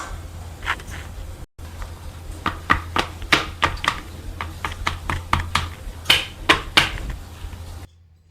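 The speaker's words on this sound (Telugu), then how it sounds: "ఇలా ట్యాప్ చేసుకోవాలి మొత్తం ఈవెన్గా స్ప్రెడ్ అయినంత వరకు." A chocolate mould filled with white and dark compound for kunafa chocolate is tapped against a surface in a string of sharp, irregular knocks, close and fairly loud, with a short silent break near the start.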